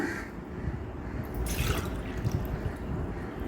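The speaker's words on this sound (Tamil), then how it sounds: "அதனால் பாட்டி 2 டம்ளர் தண்ணி ஊற்றுறேன்." Two tumblers of water pour into a container while a nannari sherbet drink is made, a soft continuous trickle and splash that swells briefly in the middle, heard close and fairly quiet with no talk.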